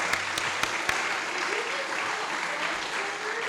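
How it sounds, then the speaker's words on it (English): Audience applause welcoming a guest at a real estate investors gathering, a steady moderate wash of clapping with a few sharper individual claps near the start. "please give him a Westbank Real Estate Investors hand clap."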